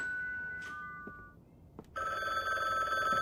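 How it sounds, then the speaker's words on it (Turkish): A telephone rings in The Bookwalker: Thief of Tales video game, a bright electronic bell tone sounding twice with a short gap between, then a sustained ring, clear and close, with no talk. "Telefon çalıyor."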